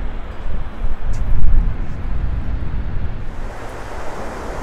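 Surf rolling onto South Padre Island beach on the Gulf of Mexico, a steady low wash of waves with wind buffeting the microphone throughout, no voices.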